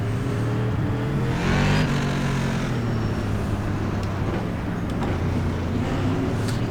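A Tour Modified race car in iRacing roaring at high revs around North Wilkesboro, a loud, continuous engine drone with pitch rising and falling through gear changes, no talking.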